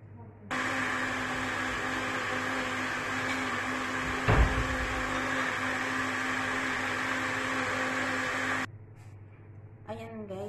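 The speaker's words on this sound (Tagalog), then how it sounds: "Wait lang guys, i-blender ko." An electric blender whirs loudly and steadily for about eight seconds while blending a muskmelon milkshake, its motor drone cutting off abruptly and leaving quieter kitchen sounds.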